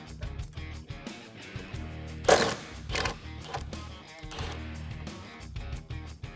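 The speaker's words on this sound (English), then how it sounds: "I'm going to be using a 12mm socket to remove the bolt under here" A 12mm socket ratchets out a bolt under a mirror mount on a Jeep Wrangler JK, giving fast, faint mechanical clicking with a sharper metallic clunk midway, close up and without speech.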